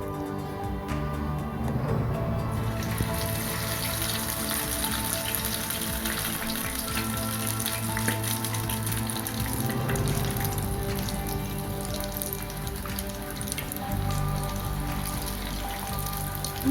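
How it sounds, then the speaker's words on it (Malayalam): Chicken pieces deep-fry in hot oil with a constant bubbling, crackling sizzle that stays close and fairly loud throughout, with no talking. "ഇനി നമുക്കിത് ഓരോന്നായിട്ട് ഫ്രൈ ചെയ്തെടുക്കാം"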